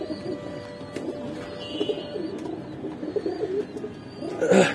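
Domestic Giribaj pigeons coo steadily at a loft, soft overlapping coos in a close, continuous chorus with occasional faint chirps and a brief louder burst near the end.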